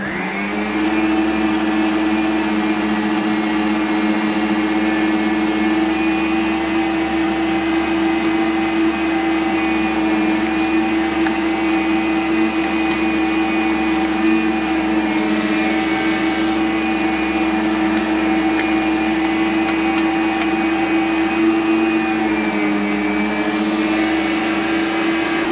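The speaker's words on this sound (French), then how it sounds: "Allez, on va mettre ça au broyeur." An electric food chopper grinding ingredients for bolognese, a loud steady motor whine with a stable pitch that holds for the whole stretch, close and alone without talking.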